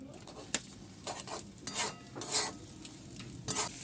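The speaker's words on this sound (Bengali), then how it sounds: "সব একসঙ্গে নেড়ে নেব।" A spoon stirs a sizzling pan of Maggi noodle sauce with Kashmiri chilli powder, tomato sauce, soy sauce and cornflour water, giving soft scraping strokes and clinks against the pan over a low, steady sizzle.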